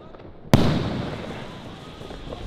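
A single sharp firework bang cracks out at a New Year's Eve fireworks show, followed by a long rumbling, crackling decay that slowly fades away.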